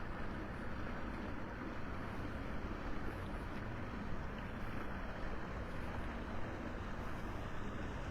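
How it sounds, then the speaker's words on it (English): A steady, low engine drone over water continues unbroken, like a boat motor running at a distance, with a faint wash of wind and no talking, at Wiggins Pass in North Naples, Florida, early morning. "This is the most boat traffic I've seen up here in a long time."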